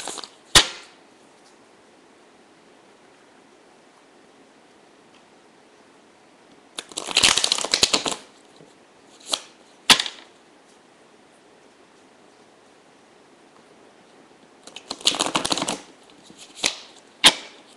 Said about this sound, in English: I'm just going to fan them out and pick out one card.